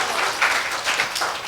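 A seated audience at a teacher's session claps together briefly, a short wash of applause rising and falling in two or three swells.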